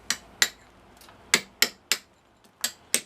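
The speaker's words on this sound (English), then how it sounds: "Actually, I am shaping the stone right now here" Hammer strikes on a flat steel chisel shaping layered stone, sharp ringing taps in an uneven rhythm with short pauses, close and clear with no talking.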